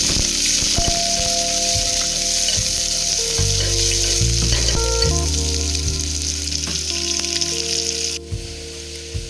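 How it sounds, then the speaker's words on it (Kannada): Onion and curry leaves with mustard seeds sizzle steadily in a hot pan, a continuous dense frying hiss with some stirring scrapes throughout, close and loud, with no voices. "ಈರುಳ್ಳಿ, ಕರಿಬೇವು, ಇದನ್ನು ಚೆನ್ನಾಗಿ ಫ್ರೈ ಮಾಡ್ಕೊಳ್ಳೋದು"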